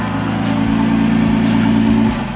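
A Toyota Tacoma engine runs with no muffler fitted, loud and close, holding a raw, throaty drone for about two seconds before the revs drop back.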